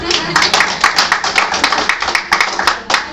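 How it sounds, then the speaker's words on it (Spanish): Small audience in a church teaching session applauding a woman, a few dozen distinct, fairly sparse hand claps heard up close, with a faint voice murmuring underneath. "Un aplauso para la hermana."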